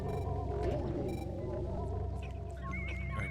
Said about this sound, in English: This is the sound of the water wraith.